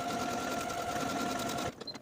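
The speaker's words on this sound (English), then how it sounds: "Now I'm going to take this to my machine and sew each of my buttonholes" A sewing machine stitches buttonholes on a jean jacket with a loud, close, continuous mechanical whir and a steady tone, stopping abruptly near the end.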